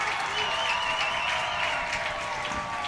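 A stadium crowd at a USL W League women's football match, Detroit City FC against Flint City, roars steadily after a goalkeeper's great save, a loud sustained wash of cheering and applause with a commentator talking over it.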